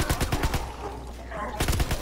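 Automatic gunfire from a weapon in a WW2 Zombies video game, two rapid bursts of close, loud shots separated by a short pause, with voices in the background.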